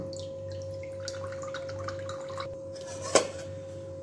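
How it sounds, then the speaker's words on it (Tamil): Water drains from soaked rice, dripping and trickling in a quiet space, with small splashes and one sharper splat near the end over a steady low hum. "இப்போது இந்த தண்ணி வந்து ஃபுல்லாக வடித்து எடுத்துட்டோம்"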